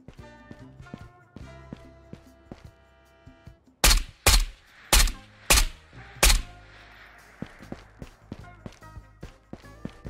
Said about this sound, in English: I feel like I've heard a ton of gunshots in here.